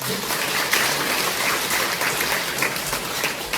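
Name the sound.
applause after a speech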